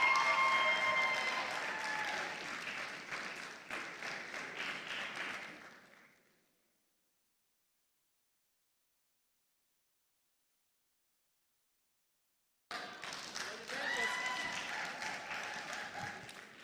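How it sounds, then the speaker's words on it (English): Conference audience clapping and cheering in a hall, a burst of applause that fades to silence, then a second round of applause rising again after a long gap. "when Azan is coming out, I want a shout or a clap or anything"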